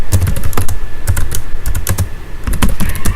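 Rapid typing on a computer keyboard while entering a Docker command: loud, close, irregular key clicks and clacks in quick bursts without pauses.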